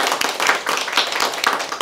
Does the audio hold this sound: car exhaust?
no